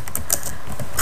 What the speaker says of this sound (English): just type in Sony Vegas